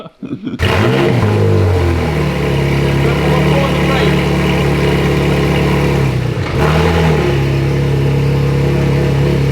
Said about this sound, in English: It revs a lot better.